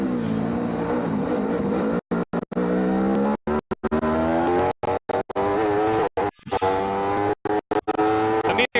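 G1 Series race cars roar around the Varano circuit, engines screaming loudly and rising through repeated gear changes, with the sound cutting in and out in short gaps.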